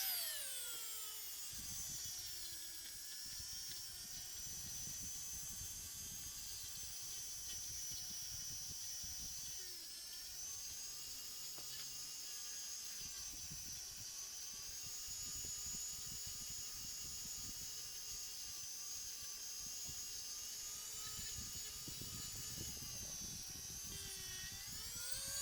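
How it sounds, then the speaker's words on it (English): A rotary tool polishes the metal base of a 1979 Hot Wheels '63 split-window Corvette with Brasso, giving a faint, steady high-pitched whine with slight pitch wobbles and scraping contact noise throughout, with no talking. "Then I use some of my Brasso, the good old Brasso, and my rotary tool, and give the base a little polishing."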